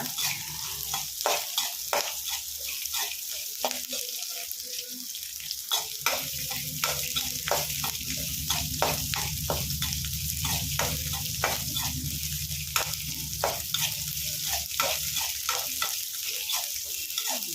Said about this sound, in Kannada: ಚೆನ್ನಾಗಿ ಫ್ರೈ ಮಾಡಬೇಕು ಕೆಂಪುಗಾಗ್ತಾ ಇದೆ ಈರುಳ್ಳಿ